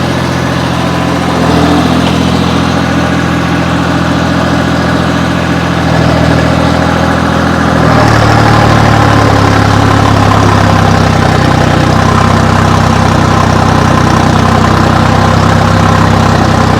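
John Deere tractor in third gear pulling a 10-foot rotavator, its diesel engine droning loudly and steadily up close, the pitch and load shifting partway through, with no talking.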